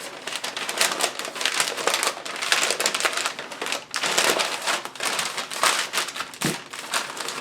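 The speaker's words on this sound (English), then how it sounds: "So that we can kind of crumple it up, fold it into the halfway here." Paper being crumpled and folded around a brisket, a continuous close crinkling and crushing with irregular crackles throughout, no talk.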